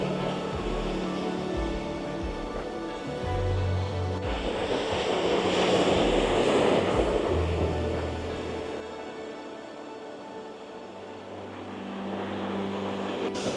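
Steady roar of ocean surf with waves breaking on rocks and washing in, swelling louder midway, accompanied by some wind rumble; no voices. Recorded on the coast of Madeira.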